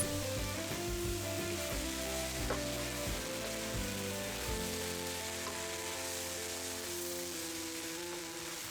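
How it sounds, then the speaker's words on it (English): Soy sauce poured down the sides of a hot pot of egg fried rice gives a steady, close hiss of sizzling that runs throughout, with background music underneath. "Add the soy sauce now, and you want to add it to the sides of the pot, not on top of the rice."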